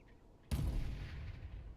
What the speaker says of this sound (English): Sniper shots going off.